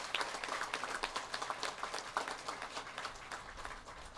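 A crowd at an outdoor bridge inauguration in the Philippines gives a modest round of applause for the secretaries, scattered clapping heard faintly and at a distance, thinning out toward the end.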